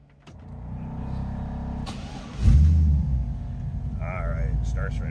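A 1936 Chevrolet two-door sedan with a fuel-injected 5.3 V8 cranks and fires, its idle jumping to a louder rumble before settling into a steady, close idle, with brief talk over it.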